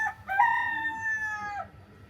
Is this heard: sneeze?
no